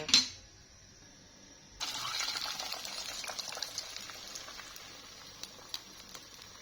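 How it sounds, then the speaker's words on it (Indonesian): Rice vermicelli being boiled in a pot of water: a sharp clink opens, then after a short quiet a steady bubbling hiss begins and continues, with scattered small pops and taps, close by. "Tinggal bihunnya aku rebus dulu."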